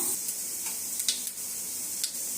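Mustard seeds pop in hot cooking oil, a close steady sizzle with a handful of quick crackling bursts spread irregularly across it.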